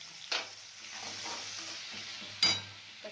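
Ghee going into a hot pan with onions while cooking a tuvar totha sabji, a quiet sizzle under two sharp scraping clatters of a spoon against the pan, no one speaking.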